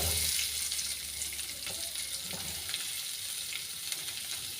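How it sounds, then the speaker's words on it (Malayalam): A small amount of coconut oil sizzles and crackles steadily in a pan as ingredients fry for a mushroom curry, with a bright, constant hiss and no talking. "ഇതൊന്ന് വറുത്തെടുക്കാം"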